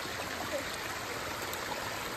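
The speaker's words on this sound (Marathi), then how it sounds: "पाण्याच्या आवाजाने मन इतकं शांत व्हायलंय ना." Clear stream water flows steadily in a rural hillside spot in Maharashtra during the rainy season, a soft continuous rushing wash with no voices.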